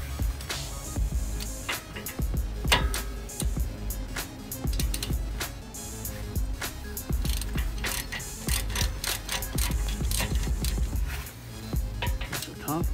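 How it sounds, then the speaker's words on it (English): A half-inch ratchet clicks steadily while loosening the 19 mm front brake caliper bracket bolts on an Acura TL, sharp close pawl ticks in quick repeated runs with some metallic clanks and a little background voice. "I have a half inch ratchet. Bracket bolt one and two. They both are 19 millimeter."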